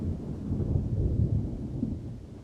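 Steady rain with a deep, continuous rumble of thunder rolling underneath, dense and low, with no talk over it.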